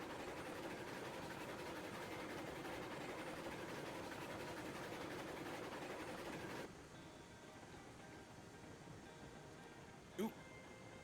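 A small locomotive engine in the train simulation game Railroads Online chugs with a steady mechanical drone that suddenly drops to a much quieter hum partway through, followed by a short sharp click near the end.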